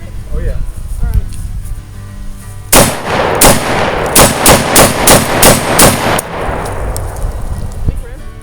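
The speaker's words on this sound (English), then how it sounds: "Can we rapid fire it?" Rapid gunfire at an outdoor shooting range aimed at a pumpkin target: a string of loud, sharp shots in quick succession with echoing tails, with voices talking before and around the bursts.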